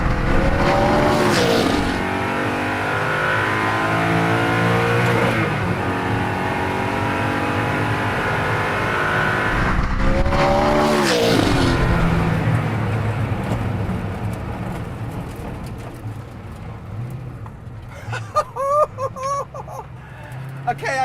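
Hypercar on a runway, engine roaring hard under full acceleration with rising revs and shifts, then easing off as it brakes to a stop, with excited voices over it.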